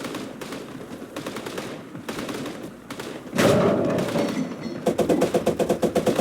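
Rapid machine-gun bursts and heavier gunfire in the WWII game Gates of Hell, with a .50 cal opening up mid-clip as loud, dense rhythmic firing that repeats in quick strings.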